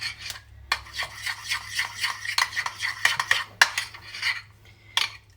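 A utensil scrapes and clinks against a bowl while a vegetable cutlet mixture with pepper is stirred together, giving close, irregular rubbing strokes and sharp metallic taps.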